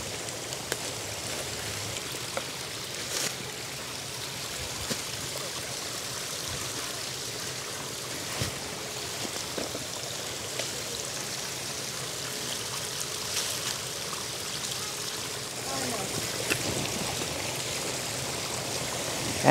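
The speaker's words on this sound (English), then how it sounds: "the amazing sound of the stream in the middle of the city" A stream flows through a small green landscape in the middle of a city, a continuous close rushing and trickling of water with no voices.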